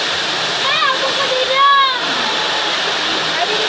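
Gaway Gaway Falls in Burias, Masbate, a waterfall where people are swimming, gives a steady broadband rush of falling water throughout, with people talking and faint voices over it.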